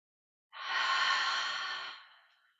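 A single deep breath during a chair yoga session, a long, close, fairly loud inhale-exhale lasting about two seconds that tails off softly, heard alone with no talking.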